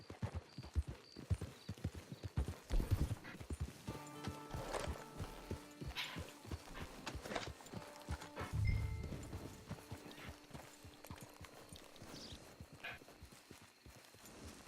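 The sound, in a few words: horse hooves clip-clopping, from a video game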